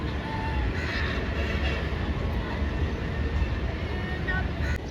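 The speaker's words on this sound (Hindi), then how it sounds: "आज की हमारी 48 डाउन रहमान बाबा एक्सप्रेस GMU 30R 8225 स्ट्रीट पर था। मली रेलवे स्टेशन से गुजर चुकी है" The 48 Down Rehman Baba Express passenger train, hauled by GMU 30R locomotive 8225, passes Malir railway station in Pakistan with a steady, loud rumble and roar that runs the whole time, without speech.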